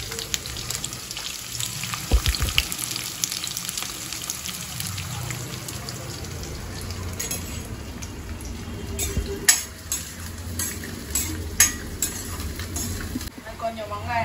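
Onions and garlic frying in a pan after fenugreek seeds, a steady close sizzle with stirring scrapes and occasional clinks, joined by a trickling, water-like hiss and faint background voices.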